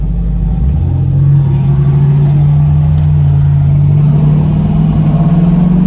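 LQ4 6.0 LS-swapped 1973 F-body pulling hard in first gear, a loud, steady, deep engine drone rising slightly in pitch as it accelerates, heard from inside or close by without talk.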